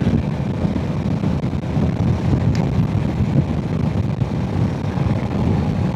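Strong wind rushing over the microphone while riding a Kawasaki Z650RS motorcycle on a road loop near Dronten in the Netherlands, a constant heavy low roar that fills the whole stretch with no talk.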